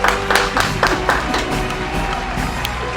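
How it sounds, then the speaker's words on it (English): A modest audience claps at a pre-event show, with a few sharp, close claps standing out early before settling into a steady, thinner patter of applause. "Round of applause, ladies and gentlemen."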